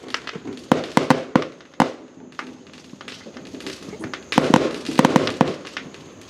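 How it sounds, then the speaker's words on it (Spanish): Christmas fireworks bursting over a street: a loud, irregular run of sharp bangs and crackling pops in close clusters, with quieter crackle between them and faint voices in the background. "después de haber observado los fuegos artificiales anunciando la Navidad, nos despedimos hasta aquí, ¿verdad, Alfonso"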